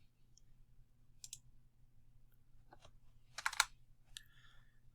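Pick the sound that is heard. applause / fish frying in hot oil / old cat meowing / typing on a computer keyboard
typing on a computer keyboard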